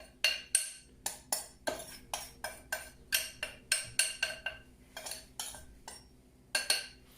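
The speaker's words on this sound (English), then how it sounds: "The next stage is your flour with all your fruit." A spoon or utensil clinks rhythmically against a bowl while fruit and flour are mixed for a gluten-free fruit cake: a steady run of bright, close taps at roughly two per second, fairly quiet, with no voices.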